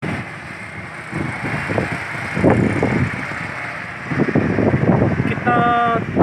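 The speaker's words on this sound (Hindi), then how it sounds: "बड़ी तेज हवाएं जो हैं चल रही हैं" Strong gusty wind blows steadily during the first monsoon rain, a loud continuous roar buffeting the microphone with surges and lulls and no voices over it.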